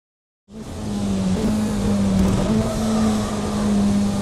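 A GT race car engine in the rFactor 2 racing simulator, starting abruptly and holding a steady loud drone with slight pitch wobbles through shifts, heard without any talking.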